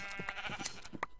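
Sheep bleating in the Minecraft video game, a few short bleats following one another over quiet game sound, with no talk.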